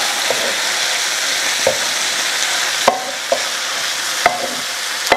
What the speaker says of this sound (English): So let's stir that around.